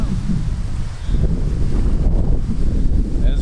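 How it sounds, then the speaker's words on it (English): Cold wind buffets the microphone outdoors near a horse area, a loud, continuous low rumble with gusty swells and no pauses, heard without speech. "It's pretty cold and windy out."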